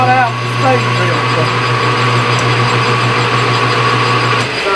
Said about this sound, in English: We're going to punch this thing right out with the spade drill.